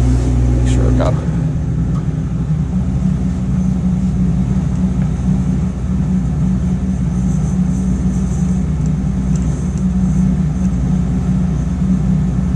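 A phase converter runs in a workshop to power a machine for boring out a washer, giving a steady low electrical hum with a constant rumble that holds unbroken after a brief start.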